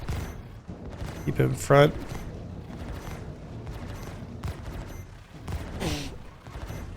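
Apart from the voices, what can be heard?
ship turrets firing in video game Star Citizen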